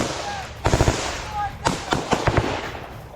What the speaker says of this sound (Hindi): कहीं बैठकर कहीं जमीन पर लेटकर फायरिंग की जा रही है यूक्रेन के टारगेट पर